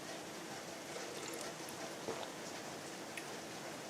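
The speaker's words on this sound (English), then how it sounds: "That is rain outside." Rain falls outside, a soft, steady, even hiss with occasional light patters, heard at low volume in the background and without any talk.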